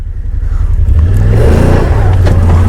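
A 2020 Yamaha Wolverine X2 XTR side-by-side engine labours loudly and close in four-wheel drive as it climbs over an obstacle, a steady low drone swelling slightly as the throttle is held.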